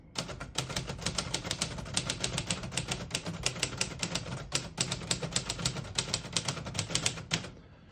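Rapid typing on a 1954 Royal Quiet De Luxe portable typewriter: a dense run of crisp, close key strikes in uneven bursts with brief pauses, ending in a short gap.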